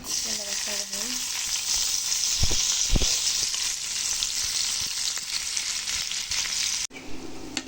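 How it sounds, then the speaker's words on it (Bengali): Onions frying in oil left over from frying tengra fish for a curry, a loud, steady broadband sizzle that runs without pause, with a few brief clinks early on and a sudden quieter tail near the end. "মাছ ভাজার পর অবশিষ্ট তেল আসছিল, ওই তেলের মধ্যে আমি পেঁয়াজ দিয়ে দেবো"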